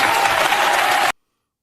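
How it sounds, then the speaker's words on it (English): A TV studio audience bursts into loud, dense applause, a steady wash of clapping that holds at full level and then cuts off abruptly. "And the crowd goes wild. Everybody's applauding like they support that."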